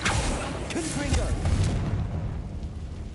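The Confringo blasting spell explodes in Hogwarts Legacy with a deep, rumbling boom that swells and then fades into quieter debris noise, while a voice sounds briefly underneath.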